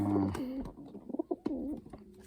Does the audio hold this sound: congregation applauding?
no